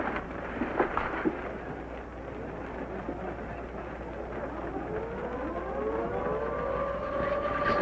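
A civil defense air raid siren wails over a dense rumbling background, its rising tone sweeping up and holding steady toward the end, loud and sustained with no talk.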